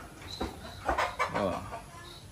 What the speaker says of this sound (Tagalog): Ari ang ating mga manok.